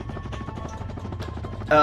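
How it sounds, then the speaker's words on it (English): Clank's helicopter mode in Ratchet and Clank: Going Commando, set in Megapolis: a steady, rhythmic low whirring chop that runs throughout under busy game sound, ending in a brighter burst. "He has the helicopter mode, which I still like better than the jetpack mode, because it's sillier."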